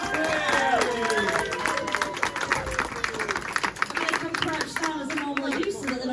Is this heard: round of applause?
yes